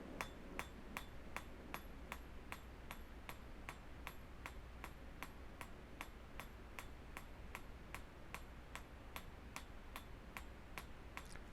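A hammer cross-peens a metal pipe in a steady, evenly spaced rhythm of bright ringing taps, about two per second, heard close up over a low background hum.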